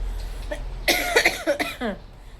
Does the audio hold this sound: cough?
yes